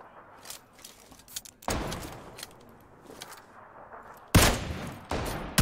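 Bursts of gunfire in PUBG Lite, a few separated shots and short volleys, some distant and faint, with two louder, closer bursts near the end.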